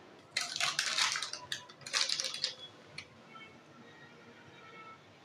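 Custard powder stirred into milk in a bowl, two bursts of brisk scraping and clinking of a spoon against the bowl, then quieter scattered taps, close and fairly soft with no talk.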